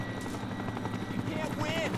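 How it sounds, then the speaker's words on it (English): A helicopter drones in a combat scene in the video game Final Fantasy VII Rebirth. Its steady rotor rumble sits under gunfire-like bursts and shouting voices. "How in the hell is the helicopter down here?"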